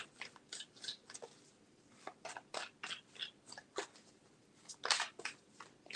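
A deck of tarot cards being shuffled, a run of quick crisp riffling snaps and shuffles in irregular bursts, close but fairly quiet, with no talk.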